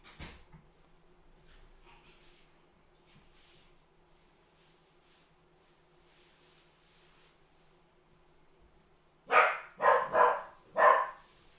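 A dog barks three times in quick succession, loud and close, sharp bursts that break a long stretch of quiet room tone.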